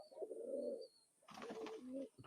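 An old male pigeon of the Chot breed from Khulna coos softly in two low throaty phrases, close by and faint in a quiet setting.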